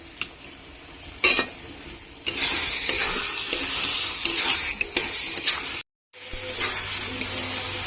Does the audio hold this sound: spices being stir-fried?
yes